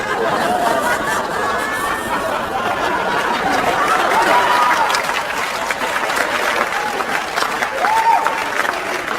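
Comedy club audience breaks into applause mixed with chatter and scattered chuckles during a stand-up set; a full, steady wash of clapping that swells and fades slightly, with no clear speech on top.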